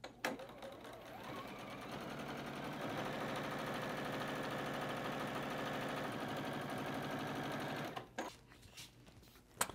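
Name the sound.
sewing machine stitching batik fabric squares together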